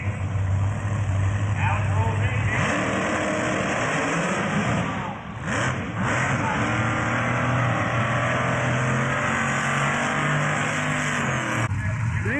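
Jamie Hancock's RVW-class pulling vehicle, a Firebird, roars loud and close at a sustained drone with shifting pitch through the pull, while announcers talk over it.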